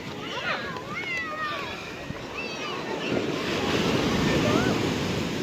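Rough sea waves surging fast toward the shore make a continuous loud roar with wind buffeting the microphone, while excited voices talk throughout over the water.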